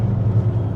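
A Stage 2 Mercedes C43 AMG W205 engine drones low and steady from inside the car while driving, a short continuous rumble with no speech.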